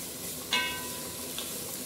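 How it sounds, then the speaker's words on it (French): Carrots and onions sautéing in a pot for a rabbit gibelotte, a steady soft sizzle with a brief metallic clink of a utensil against the pot partway through, close and without talk. "Je fais revenir mes carottes et mes oignons jusqu'à ce que ça commence à se caraméliser."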